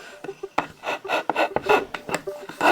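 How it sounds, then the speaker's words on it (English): A hand file rasping back and forth across wood while finishing a belt rack, a run of short scraping strokes in an uneven rhythm, close and fairly loud with no voices. "I'm gonna show them how the file works"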